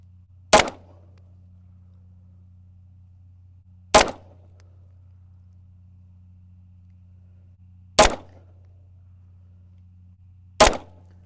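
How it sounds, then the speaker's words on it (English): Four single pistol shots from a Tisas 1911 B9R during target practice, evenly spaced several seconds apart, each a sharp loud crack with a short decay over a low steady hum, no talking. "All right, 5 more shots."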